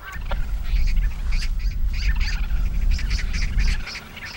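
Crows and magpies call noisily as they mob and chase a young eagle, with repeated harsh chattering cries and squawks over a loud, low rumbling background.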